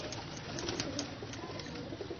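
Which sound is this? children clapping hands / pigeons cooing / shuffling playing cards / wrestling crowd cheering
pigeons cooing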